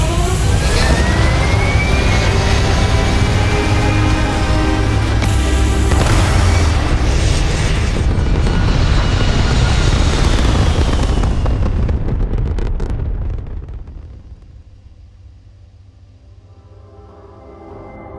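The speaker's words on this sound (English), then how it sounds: "Engines firing." In Starfield, a spaceship's engines fire with a loud, roaring broadband blast that holds steady for about twelve seconds, then fades abruptly into a low hum.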